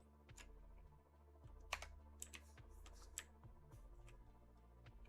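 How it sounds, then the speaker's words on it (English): Quiet computer keyboard typing during a gaming session at a desk: scattered, irregular key clicks with a few sharper taps, faint and close-miked over a steady low electrical hum. "I was typing A in the Discord chat."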